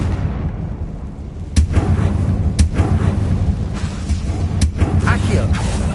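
A Confringo fire blast curse explodes in Hogwarts Legacy, giving several sharp booming bursts spaced a second or two apart over a rumbling game backdrop.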